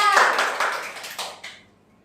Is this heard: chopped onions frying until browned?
no